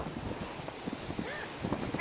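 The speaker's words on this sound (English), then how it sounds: "It's windy." Wind blowing and buffeting a microphone outdoors in snow, a steady broadband rush with gusty swells that rise toward the end, loud and continuous with faint background sounds.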